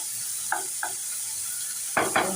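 Sliced capsicum stirred in a little hot oil, a steady soft sizzle running throughout, with a couple of light spatula scrapes early on and two louder stirring strokes near the end; no voices.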